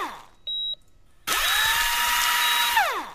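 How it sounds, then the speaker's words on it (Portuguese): Power drill whirs loudly and continuously after a short beep, spinning up abruptly and running at steady speed before winding down at the end. "Só de ouvir essa furadeira."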